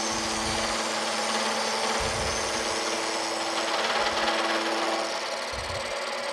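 A milling cutter takes a pass across a steel swivel jaw being made for an Emmert 6A toolmaker's vise, giving a steady, loud grinding whine with low rumbling swells that come and go throughout.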